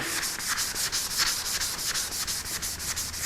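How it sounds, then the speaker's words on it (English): Rhythmic back-and-forth rubbing of a flexible 320-grit sanding sponge on the wood body of a guitar, steady quick strokes close up, gritty and continuous without any voices. "I'm going to take my flexi sanding sponge stuff and we're just going to start"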